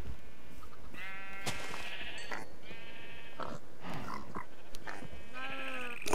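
Sheep in a Minecraft-style game bleat repeatedly, several overlapping calls spaced across a few seconds, close and clear with no talking.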